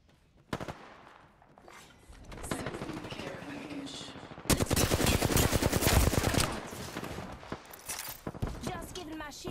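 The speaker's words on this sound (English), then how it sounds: "The enemies are shooting at me." Enemy gunfire in Apex Legends Arenas: rapid automatic bursts in dense runs, starting with a sharp shot, swelling into a sustained loud barrage midway, then continuing in quicker scattered volleys.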